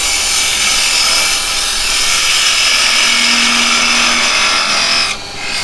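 A wood lathe turning a small taper on a piece of wood, with a loud, close, continuous whirring hiss of the spinning work and cutting tool that drops off abruptly near the end.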